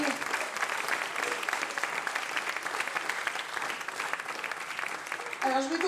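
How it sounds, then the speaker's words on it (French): A concert audience at an ensemble-class performance applauds its music teachers, sustained crowd clapping at moderate volume, with a voice speaking over the applause near the end. "Parce que les professeurs, il faut les applaudir."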